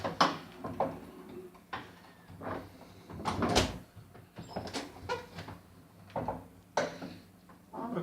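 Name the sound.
door being opened and closed repeatedly after lubricating hinges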